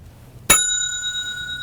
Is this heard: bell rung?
yes